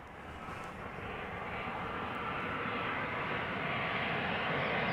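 A British Airways Airbus A319 jet inbound from London Heathrow to Amsterdam Schiphol, its engine roar rising gradually from a moderate distance, a steady broadband rumble that grows louder toward the end.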